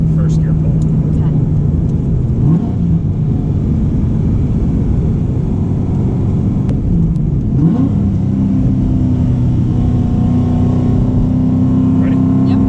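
A car pulling hard in first gear, with the engine note droning loud and steady from inside the cabin, pitch dipping briefly at about 2.5 and 7.5 seconds before settling higher, as people talk over it.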